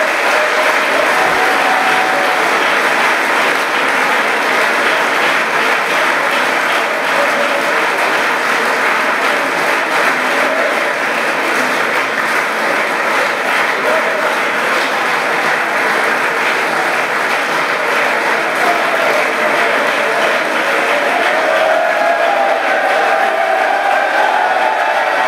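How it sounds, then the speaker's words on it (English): A large audience at an Eagle Award ceremony applauds the recipients, loud, sustained and even clapping that holds steady for over twenty seconds without pause. "Give them a nice round of applause."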